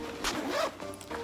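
A backpack zipper is pulled open in one quick, close rasping stroke lasting about half a second, loud against a quiet room.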